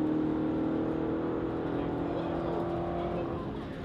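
Car engine revving in the racing video game Project MK7 during a drag race, a loud sustained engine drone that holds steady and eases off slightly at the end.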